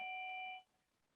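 A single electronic doorbell tone rings clearly, holding steady for about half a second before cutting off into near silence.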